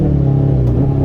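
A Chevrolet C8 Corvette Z06 with the Z07 carbon fiber package launches under launch control, its engine giving a loud, steady low roar of hard acceleration throughout the brief moment.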